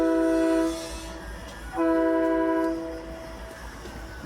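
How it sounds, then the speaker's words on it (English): A passing tugboat sounds a deep, train-like horn in two long blasts separated by a short pause, heard at a distance over steady outdoor background noise. "I hear that boat over there."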